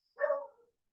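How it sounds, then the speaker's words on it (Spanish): A small dog lets out a single short, high yip in the background, quiet and isolated against silence. "Perdón si escuchan de fondo los sonidos de los perritos, pero es ya inevitable no hacerlos ladrar."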